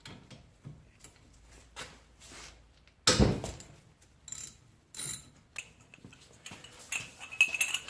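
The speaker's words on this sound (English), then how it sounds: "next I'm going to loosen these bolts that hold the caliper onto the caliper bracket" A 12 mm ratchet loosens the caliper bolts on a Honda Fit front brake, with close, quiet clicking and clinking, one loud sudden crack as a bolt breaks free, then more scattered ratcheting.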